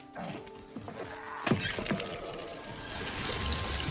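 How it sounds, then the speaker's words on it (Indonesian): Water runs and splashes from a tap amid scuffling and squeaky bumps, growing into a steady hissing flow toward the end. "sampai tak sengaja menyenggol keran dan membuat air kembali mengalir"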